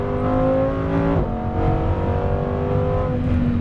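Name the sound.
supercar accelerating on race track under full power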